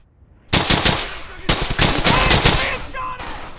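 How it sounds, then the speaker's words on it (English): Bursts of automatic and rifle gunfire in the World War II shooter Brothers in Arms: Hell's Highway, starting abruptly after a quiet moment. Loud, dense rattling volleys continue with brief pauses, and a faint voice sits underneath. "I think if I start firing, they should start as well"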